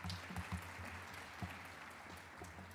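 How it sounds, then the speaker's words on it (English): Faint applause rises from the audience at a graduate summit, a soft steady patter of clapping from a distant crowd, brief and without talk. "Can we give them a great round of applause?"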